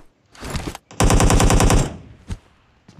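Bursts of automatic gunfire in Battlegrounds Mobile India aimed at a window: a short loud volley, a pause, then a longer sustained rapid string of shots, followed by a couple of isolated faint pops.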